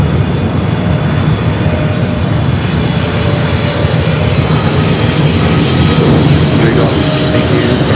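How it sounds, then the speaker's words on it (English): An American Airlines Boeing 777-300ER jet at Los Angeles airport, its engines producing a loud, steady, broadband roar that stays close and constant throughout, with faint radio talk mixed underneath. "the 777-300ER American up next"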